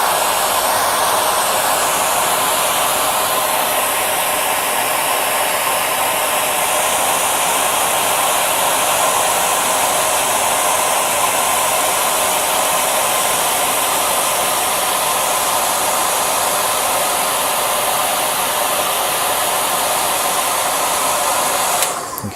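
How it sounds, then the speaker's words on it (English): A hair dryer blows steadily at close range, heating decals on a 1:12 model motorcycle fairing, a constant loud whooshing hiss that shifts slightly in tone as it moves, with no talking. "I'm moving the hairdryer around as I do that, so it's spreading heat around"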